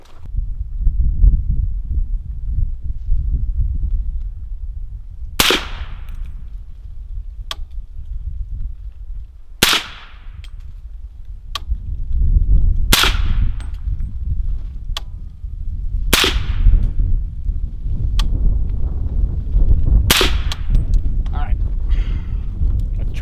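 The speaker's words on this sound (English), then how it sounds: "I'm going to go straight down the center with the Maxim ammo." Suppressed shots from a Maxim Defense PDX 7.62 rifle firing Maxim ammo at 20 yards outdoors, with about five sharp cracks spaced several seconds apart over wind noise and low rumble, and people talking between shots.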